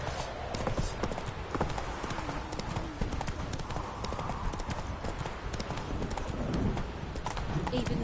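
Roach the horse gallops in The Witcher 3, hooves drumming in a fast, continuous clip-clop over dense game ambience and music, with a voice heard over it.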